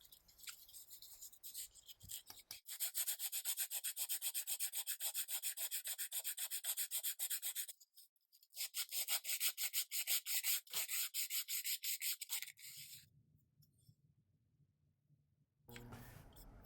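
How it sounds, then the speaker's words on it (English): Sandpaper rubs over dried wood filler on a small 1:12 scale miniature wooden coffee table, making two long runs of rapid back-and-forth scratchy strokes, close and steady, separated by a short pause and followed by near quiet. "After the wood filler is completely dried, you can go over it with a piece of sandpaper and just smooth out all of the edges."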